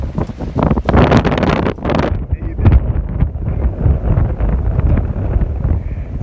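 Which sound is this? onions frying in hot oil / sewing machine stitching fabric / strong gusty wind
strong gusty wind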